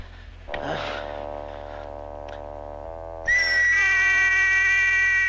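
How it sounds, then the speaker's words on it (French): A sustained, steady whistle tone rises in loudly partway through, following some earlier tonal sounds and shuffling, and holds to the end. "Pourquoi sifflez-vous?"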